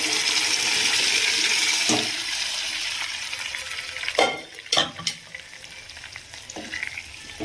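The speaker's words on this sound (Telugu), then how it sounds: "ఇలా పోపు రెడీ అయిన తర్వాత మనం రెడీ చేసి పెట్టుకున్న పప్పుని యాడ్ చేసుకోవాలి" Cooked dal mixed with drumstick leaves is added to a hot tempering, giving a steady, close, loud sizzle that gradually settles, broken by a few sharp spattering pops and stirring sounds near the end, with no talk.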